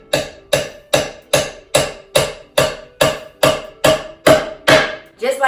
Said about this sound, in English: Good old hammer and nails